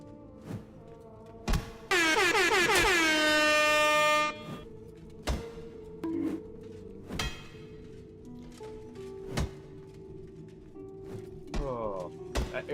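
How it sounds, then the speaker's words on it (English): A loud, sustained blast of an air horn rings out for about two seconds in the dungeon game Exanima, then cuts off, followed by scattered thuds and faint background sounds. "that air horn actually got me there"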